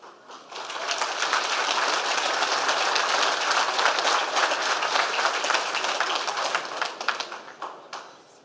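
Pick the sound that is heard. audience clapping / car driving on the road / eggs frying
audience clapping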